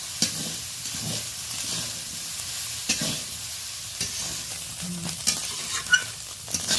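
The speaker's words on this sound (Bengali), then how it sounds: "হালকা লালচে করে বেশ ভালো করে এটা ভেজে নিতে হবে" Soft, steady sizzling of salted dried fish frying in a pan until reddish and crisp, with occasional light scrapes and stirring taps over a quiet hiss.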